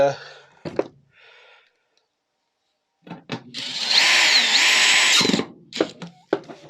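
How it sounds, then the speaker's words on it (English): A power drill driving screws back into a van panel whirs in one sustained, close burst with a rising and falling pitch, framed by someone talking and short knocks before and after. "I'll just put them screws back in there for now"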